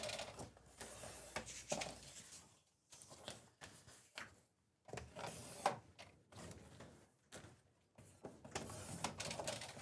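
Paper trimmer slicing a sheet of card down to a 5 1/2 by 4 1/4 size, close mechanical sliding and rasping strokes in several separate bursts with quiet gaps between.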